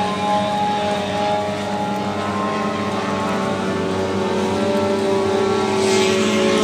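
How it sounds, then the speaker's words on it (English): An RC model biplane engine runs steadily as the plane taxis out to the flight line at the Joe Nall RC airshow, a loud continuous buzzing drone with strong harmonic tones holding for the whole stretch. "Got an SC biplane moving out to the flight line."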